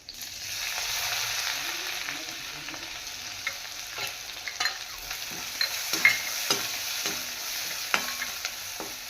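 Green chilli masala fries with mustard seeds, curry leaves and a little turmeric in hot oil, a steady close sizzle broken by repeated sharp scrapes and knocks of a stirring spoon.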